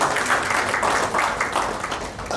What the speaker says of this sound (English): I think one round of applause to Ullas